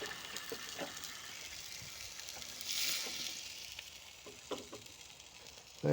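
Red wine poured into a hot pan of rabbit stew with onions hisses into a steady sizzle that swells briefly midway, with faint stirring clatter.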